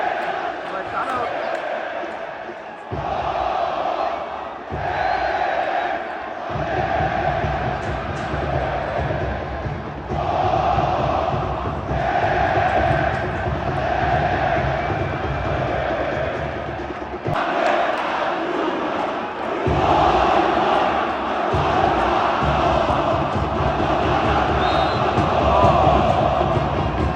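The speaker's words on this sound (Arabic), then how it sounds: "بركان من هتافات استاد القاهرة بعد تقدم نادي الزمالك" A large crowd of Zamalek football fans roars, cheers and chants continuously in Cairo Stadium late in a match, the dense wall of voices loud and sustained throughout with brief surges.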